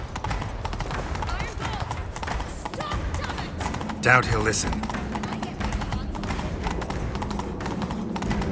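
Horse hooves clip-clop at a rapid galloping pace in the game The Witcher 3: Wild Hunt, under loud game music and effects, while a voice speaks briefly in the middle.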